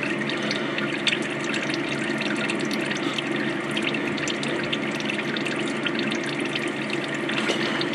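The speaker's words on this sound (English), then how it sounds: "Once we pour the oil out, we'll see what's at the bottom of it." Old engine oil pours steadily out of a well-maintained engine during an oil change, a continuous splashing liquid stream heard close up and alone.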